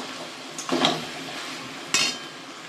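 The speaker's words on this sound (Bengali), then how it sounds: "মাছের তেলটা দিয়ে আমি কষাবো" Fish fat with salt and turmeric fries in a pan with a low, steady sizzle, punctuated by two sharp clinks of a utensil against the pan, with no one speaking.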